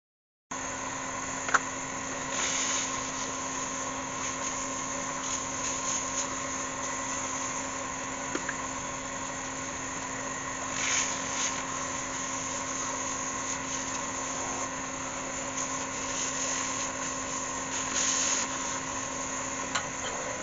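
A wood lathe rough-turns a green cherrywood log into a pedestal bowl, giving a steady, continuous mechanical hum with a faint tonal whine that holds level for the whole stretch, with no talking.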